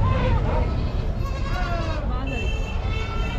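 Beetal cross goats bleat at a busy livestock market at Chakan in Maharashtra, their wavering cries rising over constant crowd chatter and background noise.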